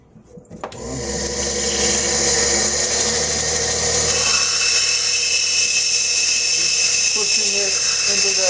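A lapidary wheel spins up and grinds the edge of a stone cabochon. It starts with a rising whine and settles into a loud, steady motor hum under harsh grinding.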